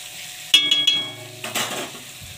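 Food fries in a pan on a home stove, with a soft sizzle running beneath two bursts of utensil clatter and scraping against the metal, near and fairly loud.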